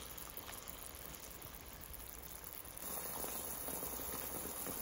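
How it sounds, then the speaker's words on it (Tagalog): Vegetables simmer in a pot of water, a soft, steady bubbling hiss that grows a little louder partway through, with no talking. "Ito na, kumukulo na yung gulay natin."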